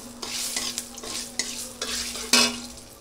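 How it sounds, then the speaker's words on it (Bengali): A spoon scrapes and stirs bay leaf, black cumin and white cumin in sizzling hot oil in a pan, with a steady fry hiss under repeated stirring strokes and one louder scrape near the end, no talking. "এবার একটু নাড়িয়ে চাড়িয়ে নিই।"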